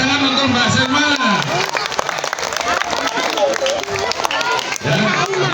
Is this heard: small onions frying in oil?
no